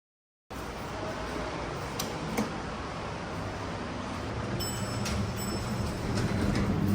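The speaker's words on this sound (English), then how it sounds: "The next Blue Line train to Bowdoin is now approaching." An MBTA Blue Line subway train approaches a station, building from a steady rumble into louder rolling and rail noise, with a few brief metallic ticks and squeals near the end.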